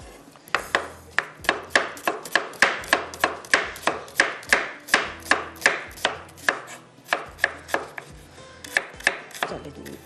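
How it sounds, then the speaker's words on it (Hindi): Onions sliced thinly with a knife on a board: a quick, steady series of crisp chopping strokes, close and clear, with no talking over them. "बिल्कुल बारीक बारीक स्लाइस कटिंग करेंगे।"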